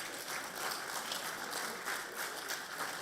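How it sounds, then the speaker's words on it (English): An audience at a health reform talk applauds in a steady, even wash of clapping, fairly faint and distant, with no voices over it. "well, I'm glad you're clapping and not throwing eggs at me or something"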